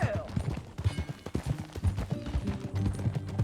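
Horse hooves clip-clopping in the Red Dead Redemption 2 video game, a brisk irregular run of close, thudding hoofbeats throughout, with some background game sound.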